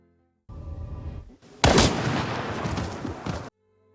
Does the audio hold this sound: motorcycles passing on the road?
no